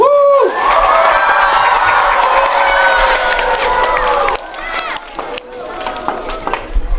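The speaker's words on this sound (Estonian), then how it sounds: "teeme veel kord suure aplausi selle üritusele" An audience at a school playback performance event breaks into loud applause and cheering with shouts, filling the first few seconds before tapering into scattered claps and crowd noise.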